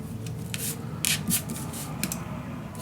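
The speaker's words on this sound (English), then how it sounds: "Just burnish it down, of course, otherwise it does not stay on its place." Paper being burnished down along a score line for a mini album in a storage box gives a few soft, close rubbing strokes with brief scratchy peaks, faint and alone.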